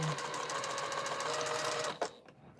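Sewing machine running steadily while stitching a quilt seam, a continuous close mechanical whir that stops abruptly near the end, heard alone.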